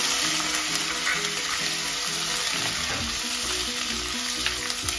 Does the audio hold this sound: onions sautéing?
yes